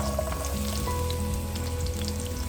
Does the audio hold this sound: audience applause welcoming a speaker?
no